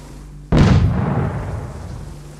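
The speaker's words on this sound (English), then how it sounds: "I don't want them to hear the explosion." A single loud explosion in the survival game DayZ, a sudden close blast with a sharp attack and a long rumbling decay that fades over about two seconds.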